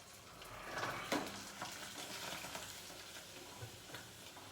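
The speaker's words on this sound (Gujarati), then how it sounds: "મને તળવાનું કામ બહુ ગમે. કશું નહીં કરવાનું, નાખવાનું અને ચમચો હલાવવાનું, તૈયાર." Food fries in hot oil while a spoon stirs it, giving a soft, continuous crackling sizzle with a few brief scraping stirs, faint and close with no talking.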